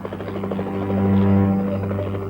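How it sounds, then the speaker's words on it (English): A police helicopter drones with a steady low rotor hum and engine whine, close and continuous, swelling slightly in the middle. "The police helicopter has been rushed out of the repair bay."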